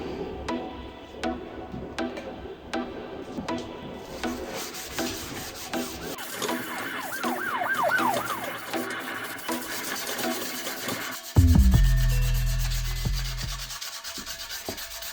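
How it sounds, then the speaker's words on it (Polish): Sandpaper rubs across a wide steel wheel rim for a BMW E34 project, producing repeated close scratchy strokes in an uneven rhythm, followed near the end by a louder low rumble or handling bump. "Matujemy całą felgę, dajemy epoksyd, szpachlę i lakierujemy."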